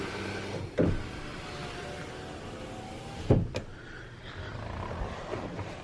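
A pickup truck's power windows whir as the motor runs, each travel ending in a firm thump, two thumps in all, quiet and close with no talking.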